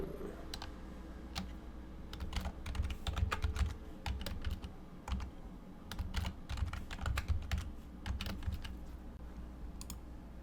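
Fingers type a new password on a computer keyboard, a steady run of close, crisp key clicks with brief pauses between bursts, and no voices.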